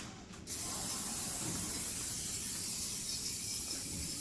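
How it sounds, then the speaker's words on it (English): Baking spray hisses out of a can onto a 13 by 9 inch pan in a steady, close, continuous spray lasting a few seconds after a brief quiet start. "Next thing we have to do is coat our pan with baking spray."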